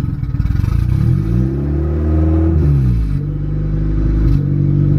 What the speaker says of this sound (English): Right there at about 1500 RPMs. It just, I'm trying to hold it right there, and like a part throttle, it just kind of gets stuck.